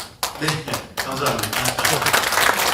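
An audience claps at a documentary film screening, a burst of scattered applause starting abruptly and building denser and louder, while a voice speaks over it.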